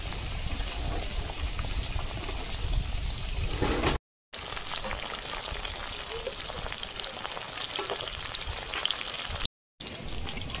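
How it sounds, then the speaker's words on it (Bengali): Paneer frying in hot white oil in a pan, a steady close sizzle with fine crackling spatter that runs throughout, broken by two brief silent gaps. "তেল গরম হয়ে গেছে, পনির দিয়ে দেবো"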